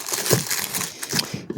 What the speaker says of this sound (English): Let's get this cellophane off.